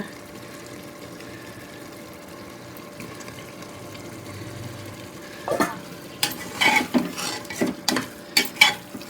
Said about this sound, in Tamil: இப்போ இது கூட வந்து நம்ம ப்ரானை போட்டுருவோம்.